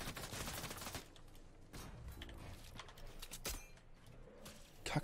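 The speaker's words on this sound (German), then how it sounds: "Jetzt schießen die mich runter." Gunfire in a Fortnite match, with a series of sharp shots and cracks, some in quick bursts, heard fairly faintly against a busy game background.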